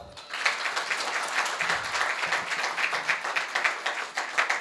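Renewed applause from the audience at a Hindi kavi sammelan in Maujpur, brisk clapping from a crowd that swells quickly and holds steady with small rhythmic surges throughout, free of speech.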